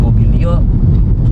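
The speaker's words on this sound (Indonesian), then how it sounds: "Yang agak mendominasi itu suara kolongnya." Steady low rumble of underbody road noise inside a 2015 Nissan Grand Livina X-Gear CVT cabin while driving, a constant dense drone with a voice briefly present over it.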